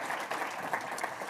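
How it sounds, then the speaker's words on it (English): Business seminar audience gives a brief burst of steady applause, a dense wash of many hands clapping at moderate distance with no speech over it. "let's clap it up for Mike."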